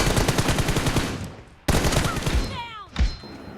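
Rapid automatic gunfire bursts in the Free Fire video game, a dense rattling volley, a pause, then more shots with a brief whooshing effect, loud and close.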